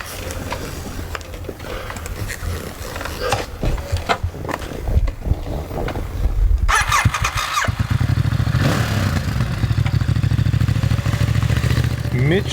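A Ducati DesertX adventure motorcycle engine climbs a long, steep hill, revving hard and irregularly at first, then settling into a loud, sustained roar close by.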